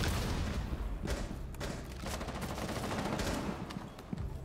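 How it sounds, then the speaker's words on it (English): Rapid gunfire in Rainbow Six Siege, shots fired from a window, a dense continuous burst of automatic fire with sharp individual cracks, loud and close throughout. "he's shooting me out of the window"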